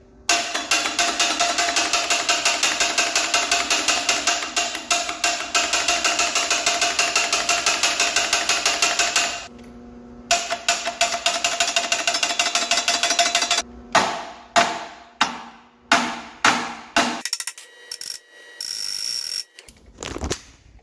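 Starter cranking a damaged, seized Cummins diesel engine on jump-pack power, a loud rapid mechanical chatter that holds for about nine seconds, then breaks into short strained bursts that fade out, with no voices.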